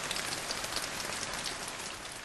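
Heavy rain pours down steadily and densely, a loud, close, unbroken hiss of drops on surfaces with no voices over it.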